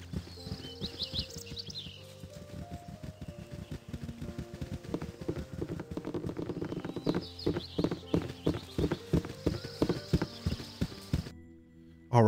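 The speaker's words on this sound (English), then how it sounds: "There's some horses here." Horse hooves clip-clop steadily in the Baldur's Gate video game, a rhythmic run of hoofbeats over a soft ambient bed with a brief whinny early on, ending abruptly.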